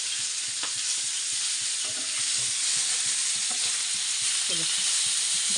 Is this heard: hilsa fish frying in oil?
yes